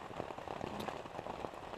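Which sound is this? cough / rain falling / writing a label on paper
rain falling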